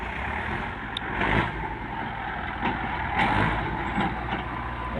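A Kubota L47 tractor engine runs steadily, a low continuous rumble with slight surges in loudness, heard alone at fairly close range.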